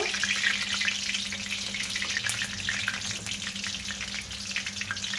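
Pitha fry in hot oil in a kadai on a stove, giving a steady, dense bubbling sizzle with a faint low hum beneath, close and continuous.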